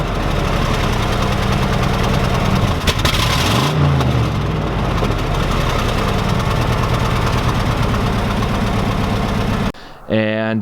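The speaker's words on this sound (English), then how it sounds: "And with that, the car runs terrible." An old car engine runs rough on stale gasoline, a loud, close, steady chugging idle with an uneven knock that holds for ten seconds before a brief dip and clatter at the end.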